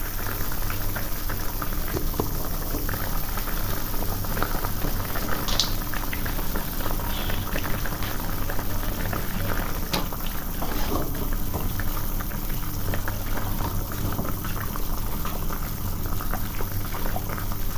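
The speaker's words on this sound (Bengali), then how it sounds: "বড়াগুলো দিয়ে নিচ্ছি, এবার কিছুক্ষণ ফুটিয়ে নেব" Cabbage kalia gravy with potatoes and fritters added bubbles in a pot, a steady, close boiling burble with faint popping that continues evenly throughout.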